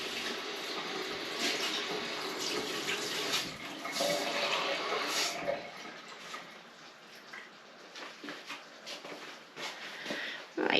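Cold tap water runs steadily into a measuring jug in a home kitchen, a continuous close splashing rush that eases off partway through, with small clinks and splashes as the flow changes.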